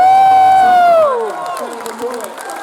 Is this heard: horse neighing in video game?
no